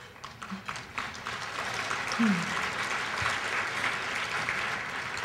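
Conference members' meeting audience applauding, a dense wash of clapping that builds quickly and holds steady, with faint voices underneath.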